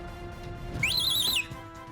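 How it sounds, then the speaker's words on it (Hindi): One short, sharp, high whistle, given to call people over in a sitcom scene, rises with a wavering pitch over faint background noise and then stops. "तो ऐसे सीटी मार के बुला लेंगे, ठीक है?"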